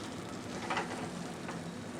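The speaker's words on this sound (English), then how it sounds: "Then we're going to add the shallots" Shallots sautéing in a little hot oil in a pan over medium-high heat, a steady low crackling sizzle, faint and continuous.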